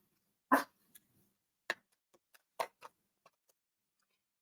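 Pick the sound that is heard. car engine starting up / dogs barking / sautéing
dogs barking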